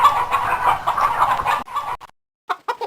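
A hen clucks loudly and steadily up close, a busy run of fowl chatter that breaks off into silence before a few short clucks return.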